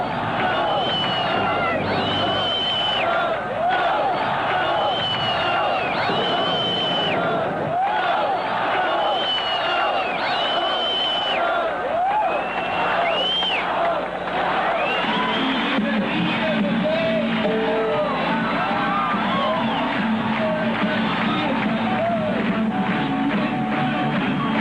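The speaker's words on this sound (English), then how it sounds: "Capacity crowd of screaming fans that" Capacity stadium crowd of screaming fans at a 1978 US tour concert, a dense, continuous roar of high-pitched shrieks and yells sustained loudly throughout.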